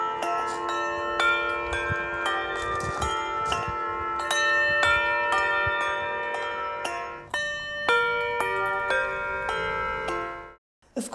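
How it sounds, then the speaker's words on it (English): Tower bells of a church ring in changes, each bell struck in turn in a steady cascading round, bright overlapping tones continuing for about ten seconds before a brief pause. "We do it by holding the rope up for a moment, which allows another bell in the sequence to ring slightly before us."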